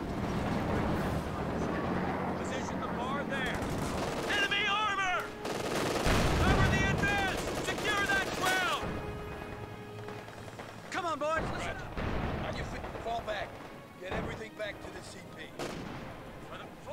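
Gunfire and artillery from the World War II strategy game Company of Heroes 2 crash and crackle continuously in heavy bursts, mixed with shouted soldier voice lines and battle noise.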